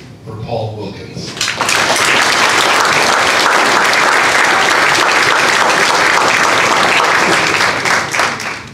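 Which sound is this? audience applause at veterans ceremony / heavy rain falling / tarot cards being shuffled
audience applause at veterans ceremony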